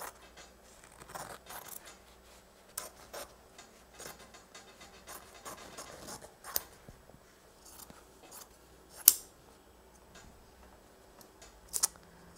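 Scissors snip through denim jean legs, cutting them into strips: a series of quiet, irregular clipping sounds with a few sharper snips, close by and alone.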